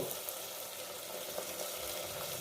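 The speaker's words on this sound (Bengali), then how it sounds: "সেটা একটু লাল লাল করে ভাজা হোক।" Steady, close sizzling in oil while cooking Champaran-style garlic mutton with whole garlic bulbs, a dense crackling hiss that continues without pause and with no voices.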